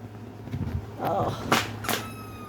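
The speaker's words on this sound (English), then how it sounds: "He's got a squeaky, rattly plastic bottle monkey." A squeaky, rattly plastic-bottle toy monkey is stepped on, giving several short crinkly, crackling bursts close by amid low background noise and a little indistinct voice.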